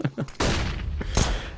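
Gunfire in a Counter-Strike video game match, a few quick shots followed by a loud sustained burst and another sharp shot, close and punchy over a short span.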